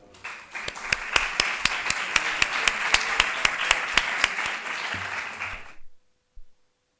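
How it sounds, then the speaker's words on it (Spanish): An audience at an education training conference in Andalusia applauds for about six seconds, steady clapping with a few sharp individual claps standing out in an even rhythm before it stops abruptly. "os pido un fuerte aplauso"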